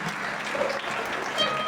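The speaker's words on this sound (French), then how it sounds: "On applaudit le Seigneur par Jésus." A Pentecostal church congregation applauds at an anniversary service, a close, dense burst of clapping with a few crowd murmurs and whistles mixed in.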